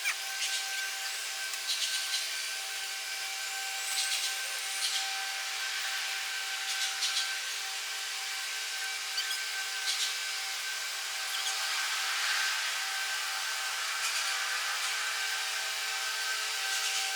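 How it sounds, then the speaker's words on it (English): A Furrion RV observation camera lens cover is wet sanded by hand along its edges, giving a soft repeated rubbing and scraping with short strokes at a steady rhythm, close and fairly quiet, with no talking. "I'm gonna go back and wet sand the edges some more in the middle"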